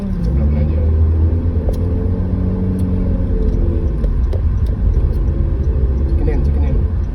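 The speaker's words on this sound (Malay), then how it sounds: "Oh, ada kereta." A car rumbles past close by, a low engine drone and tire hum swelling and fading across several seconds while people talk over it.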